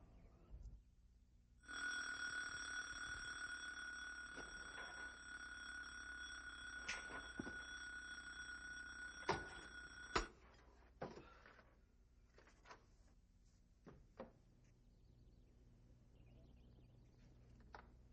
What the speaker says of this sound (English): what the hell you think you're doing setting that alarm?